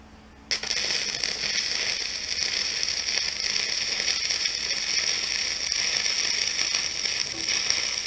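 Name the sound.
arc welding with 2.5 rods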